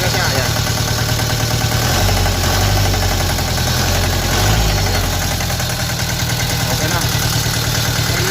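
A Deutz diesel engine idles steadily after a misfire repair, its low, even rumble continuous and close throughout, with no shaking; someone speaks briefly over it.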